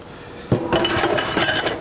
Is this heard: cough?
no